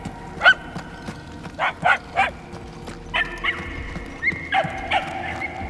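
A dog in Marvel's Guardians of the Galaxy gives a string of short, close barks and yips in uneven bursts, clear and fairly loud over a low background hum.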